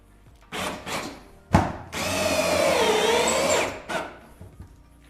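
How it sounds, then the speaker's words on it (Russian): A power drill bores into an old creaking floor, then drives a self-tapping screw down in one sustained whirring run, with short bursts of drilling before and after, close and loud. "Засверливаемся. И вкручиваем саморез."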